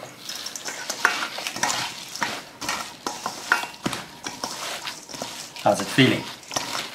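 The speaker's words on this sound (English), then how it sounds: "You just work the crumbs through until you feel like the patty is ready to mix." Hands working breadcrumbs through a vegan burger patty mixture in a bowl, a close, soft, squelching and rustling sound in irregular bursts, with people talking briefly.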